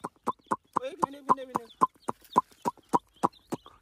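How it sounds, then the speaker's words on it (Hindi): Chicks emerge from a tunnel in the ground, giving a string of sharp, evenly spaced chirps close by, with a brief stretch of softer fowl clucking in the middle. "ये देखो चूजे आ रहे हैं चूजे यहाँ से निकल रहे हैं"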